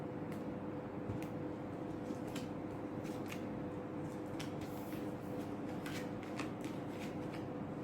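Tarot cards are shuffled by hand in a quiet room, a soft continuous riffling with light flicks and taps as cards are drawn, no voice over it.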